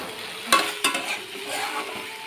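Gathi kochu, a taro, stir-fried with spices in a pan on a medium-low flame, giving a steady sizzle with a couple of sharp scraping clinks from a spatula, close and without talk.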